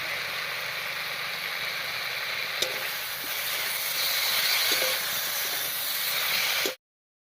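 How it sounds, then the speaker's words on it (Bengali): Pumpkin, pumpkin shoots and other vegetables sauté in a pan with cumin and slit green chillies, giving a steady, fairly loud sizzle with a few faint clinks of stirring, until it stops abruptly. "এবার জিরাটা দিয়েও একটু কষিয়ে নিলাম"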